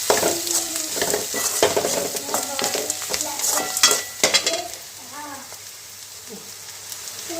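Onions and green chilies frying in a pan as curry masala, salt, turmeric and sambar powders are stirred in, with steady sizzling and scraping strokes that ease into a softer sizzle.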